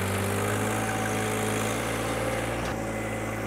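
A compact loader's engine, fitted for doubled hydraulic flow, runs at about 2300 RPM with a loud, steady, close droning hum that holds an even pitch throughout.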